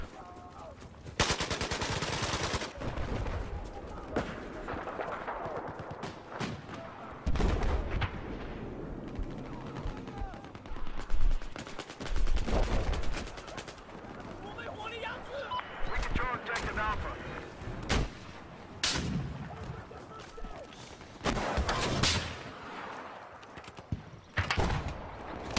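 A naval combat video game fires off bursts of gunfire and heavy booms, some rapid and some single, at varying distances over roughly twenty-five seconds, while someone talks over the action.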